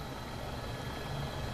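A Eurocopter AS350 helicopter in the X-Plane flight simulator hums with a steady, dense engine and rotor drone, continuous and even in level, with nobody speaking.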